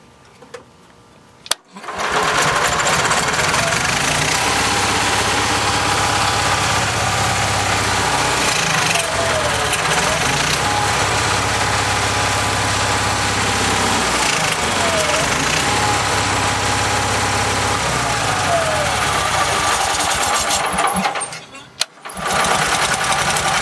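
An Onan 4-5KW generator engine, choke held open, cranks and catches after a short silence, then runs steadily and loudly for about twenty seconds before a brief dip and a clatter near the end.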